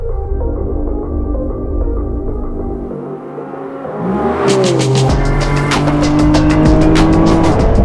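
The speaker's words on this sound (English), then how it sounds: "We start off with the outrageously looking 1000 horsepower Lamborghini Revuelto." A 1000 horsepower Lamborghini Revuelto engine rumbles low and steady, then revs hard and climbs into a loud, rising howl with sharp crackles and pops, close and without speech.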